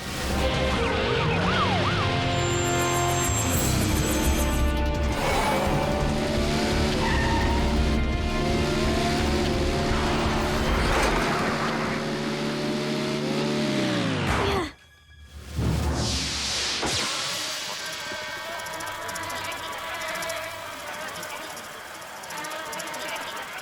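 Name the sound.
cartoon go-kart skidding and revving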